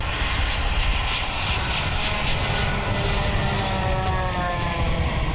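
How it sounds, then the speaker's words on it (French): A passenger airplane lands, its engines producing a continuous loud droning rumble with a steady, sustained roar and no pauses. "Après 2 heures de vol, l'avion atterrit au pays des Patrice Talon."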